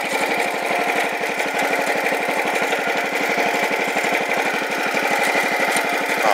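A Wheel Horse 701 lawn tractor, refitted after an engine swap, idles steadily and close by with a rapid, even chugging pulse that holds at a constant level throughout.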